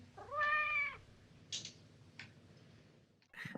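A cat gives one clear, drawn-out meow up close, followed by a few faint clicks and ticks in an otherwise quiet room.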